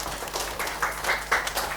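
A classroom of children claps in response to their teacher, a short, close patter of uneven hand claps lasting under two seconds.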